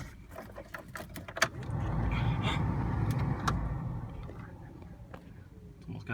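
A car engine starts and settles into a steady low idle after a few clicks and clunks, close and continuous for several seconds, with a person talking nearby.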